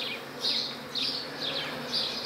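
Honeybees buzzing steadily around a hive frame during work at an apiary, a continuous close hum with several louder swells as bees pass near.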